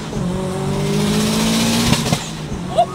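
A 540 hp stage 4+ Subaru accelerates hard, its engine note rising steadily before a sharp wastegate discharge at a gear shift, loud and close, followed by a short lull.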